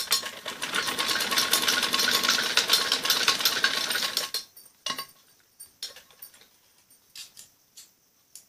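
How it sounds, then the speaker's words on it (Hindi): A sewing machine runs a straight seam on a kameez sleeve, whirring loud and steady for about four seconds, then stopping, leaving faint clicks and small handling sounds. "इसको हम ऐसे रखेंगे और सीधी सिलाई लगा देंगे।"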